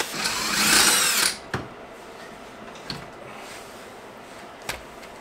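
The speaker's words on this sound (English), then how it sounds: "You know, I do have a drill." A short burst of a power drill whirring up close during rear wheel bearing replacement on a 2008 Honda CR-V, followed by a few faint clicks and knocks in a quiet room.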